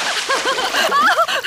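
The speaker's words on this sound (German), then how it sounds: "Ich glaube, wir haben genug gespritzt." Cartoon water splashing in a Peppa Pig episode, loud and close, with quick repeated splashes and sloshes in a steady run.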